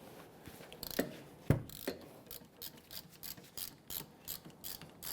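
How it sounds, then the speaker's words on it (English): Ratchet wrench with a 14mm socket loosening caliper bracket bolts on a 2011-2015 Kia Sorento rear brake, giving a series of close, crisp clicking bursts with short pauses between strokes. "Go ahead and loosen, remove our 2 bolts."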